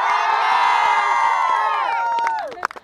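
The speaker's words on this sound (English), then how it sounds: "Just give him a loud cheer." An outdoor crowd at a trebuchet event in London cheers loudly for someone named Richard, a dense wall of whoops and shouts that holds steady, then breaks off into a few scattered voices.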